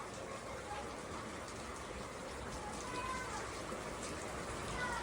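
First monsoon rain of the season in Nashik falls in a steady, even wash of broadband hiss with soft patter, close and continuous, while indistinct voices murmur faintly underneath.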